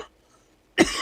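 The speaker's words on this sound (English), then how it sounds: "I apologize for coughing." A single cough bursts out near and loud during a live tarot reading, following a brief quiet pause.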